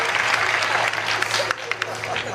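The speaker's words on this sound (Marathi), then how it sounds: "वाजवा टाळ्या वाजवा, टाळ्या वाजवा." An audience at a live Marathi kirtan claps in a brief, fairly loud burst over a low hum, with a few sharp separate claps as it thins out and a voice speaking over it.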